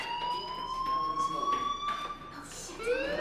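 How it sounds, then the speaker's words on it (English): A school fire alarm rings in the video game Life is Strange, a steady electronic alarm tone with several sustained pitches running throughout, while a voice speaks over it and the tone shifts near the end. "do you hear that fire alarm? That means you should be outside."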